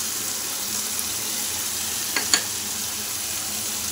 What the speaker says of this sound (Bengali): এবার ড্রাই মশলাগুলো অ্যাড করে দিচ্ছি।